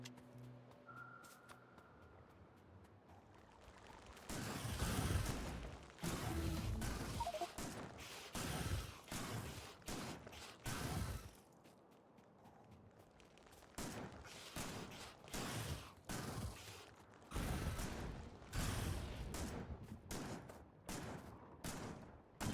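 Grenades burst again and again in Factorio, a dense run of sharp blasts and crackling impacts that comes in clustered volleys, with brief lulls between bursts.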